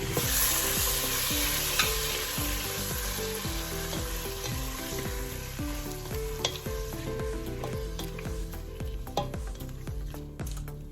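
Shrimp sizzle and fry in a pan while being stirred for spaghetti carbonara. A steady, crackling hiss runs throughout, with regular scraping strokes and occasional clinks of the utensil against the pan, and no talking.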